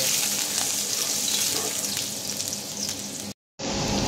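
Sliced ginger fries in about two tablespoons of hot oil, a loud continuous close sizzle with fine crackles that softens slightly, cuts out for a split second, then resumes at full strength.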